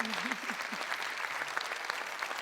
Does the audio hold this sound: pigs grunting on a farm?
no